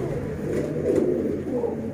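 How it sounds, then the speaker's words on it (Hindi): Sialkoti neel dum pigeons cooing close by, a low soft repeated coo with a throaty rolling quality, steady and moderately loud, with no talk over it. "सियालकोटी नील दुम्बे कबूतर"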